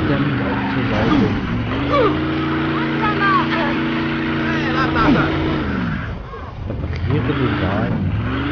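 A damaged car's engine drones steadily while being driven in the Mafia II video game, its pitch holding, then dropping and picking up again near the end, with talking over it throughout.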